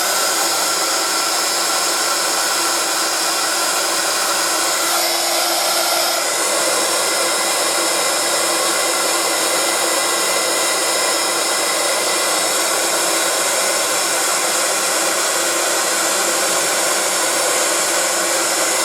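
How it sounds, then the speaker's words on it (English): A heat gun blows hot air in a continuous loud whooshing hiss with a faint motor whine, staying steady and alone with no voices. "So when you're using the heat gun, always try and heat it first."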